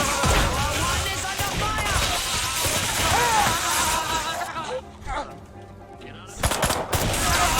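Gunfire in the Destroy All Humans! remake rattles in rapid bursts through the first half, dense and loud, then briefly drops away before resuming near the end, with someone talking over the action.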